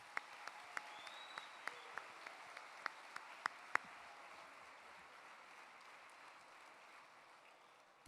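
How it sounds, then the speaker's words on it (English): An audience at a sports awards night applauds the athletes, heard faintly and distantly as a soft wash of clapping with a few scattered sharp claps near the start, fading toward the end. "One more big round of applause for all our athletes."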